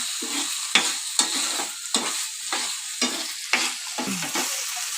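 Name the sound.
masala frying in pan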